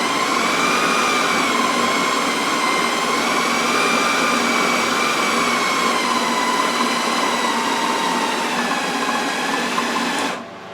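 An electric mixer whirs steadily through coconut cookie dough, a loud continuous motor drone with strained harmonic whine that holds for about ten seconds before cutting off abruptly.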